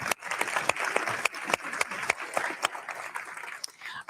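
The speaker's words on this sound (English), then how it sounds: "And a round of applause for Stefan." Audience applause for Stefan at a science talk event, a steady wash of many hands clapping with sharp individual claps standing out, sustained for several seconds before thinning at the end.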